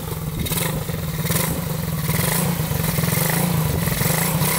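Rigged-up rat rod motorbike engine running steadily, a loud, continuous low mechanical drone with rough pulsing and clatter, fairly close and without talk.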